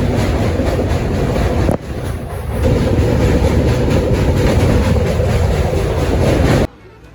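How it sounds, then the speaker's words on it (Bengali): A train at Nalpur station rumbles loud and close with a steady rolling clatter, dips briefly, then surges on before cutting to quiet. "নলপুর স্টেশনে দাঁড়িয়ে পড়েছে ট্রেন আমাদের"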